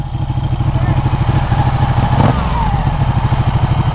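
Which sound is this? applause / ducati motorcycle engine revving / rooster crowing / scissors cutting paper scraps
ducati motorcycle engine revving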